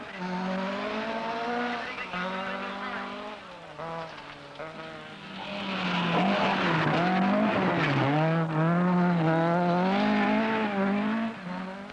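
Varini and Russo 131 rally car on a 1976 World Rally Championship stage, engine note climbing and falling through gear changes as it passes close by, loud and sustained with a surging, revving pitch.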